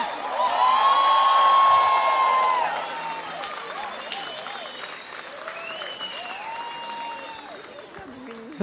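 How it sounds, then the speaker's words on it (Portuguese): Audience applause and cheering at a live Brazilian sertanejo concert, a loud dense swell of clapping with whoops that fades after a few seconds into softer scattered clapping and crowd voices. "uma salva de palmas, gente"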